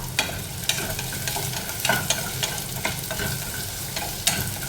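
Crab roast frying in a pan with coconut, stirred by a utensil that scrapes and taps the metal in an irregular rhythm over a steady, close, moderately loud sizzle.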